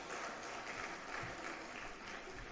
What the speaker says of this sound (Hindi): मैं चाहता हूं कि एक मरतबा हमारे मेहमानान के लिए आप तालियां उनसे इस्तकबाल कर दें